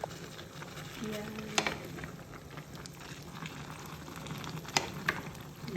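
A pan of mixed Filipino vegetables simmering on the stove, a steady soft sizzle and bubbling with occasional clinks of a utensil, close and moderately loud, no talk over it.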